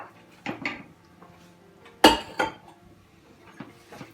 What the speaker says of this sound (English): and we just stir all that together